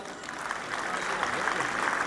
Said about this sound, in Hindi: जोरदार तालियां बजाएं आप लोग